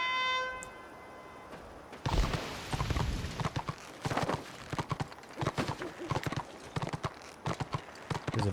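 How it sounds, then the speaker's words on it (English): Rhythmic clip-clop of a horse galloping in the fantasy online game Warhammer Online, hoofbeats close and steady after a brief tonal chime at the start, with no talking over them. "Should we get on the horse? Have a gallop."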